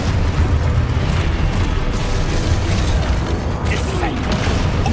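Fiery Confringo spell blasts from the Hogwarts Legacy video game, a dense, loud rumbling roar of explosions filling the whole stretch, with game voices mixed in underneath.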